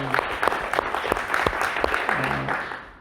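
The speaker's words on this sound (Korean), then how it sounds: "자, 우리 함께 하나님께 임하게 박수 올려드립니다" A Korean church congregation at Sunday worship claps together to God after a hymn, a fairly loud, steady patter of many hands with a few sharper claps and faint voices underneath.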